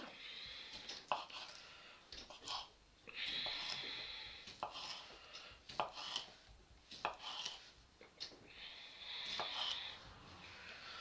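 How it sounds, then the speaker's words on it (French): A knife slices currywurst sausages into rounds, giving a string of close, crisp cutting taps against a board with brief scraping between them, irregular in rhythm with no talk. "Après, on va couper des rondelles"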